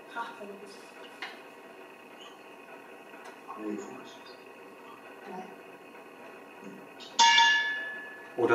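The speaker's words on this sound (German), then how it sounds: "Oh, das war ein frühes Läuten." A bell rings briefly during a charity book quiz, a bright clang near the end standing out over quiet room noise, with a few faint knocks and rustles earlier.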